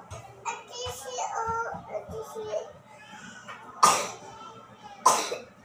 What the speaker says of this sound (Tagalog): Wala, may ubo ka na naman.